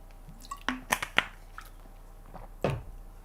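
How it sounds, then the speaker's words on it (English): Someone takes a quick drink of water, giving soft, faint wet gulps and mouth squishes in a few separate bursts close to the microphone, with no talk. "Drink some water real quick."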